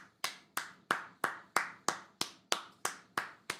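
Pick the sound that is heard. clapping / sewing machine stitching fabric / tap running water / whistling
clapping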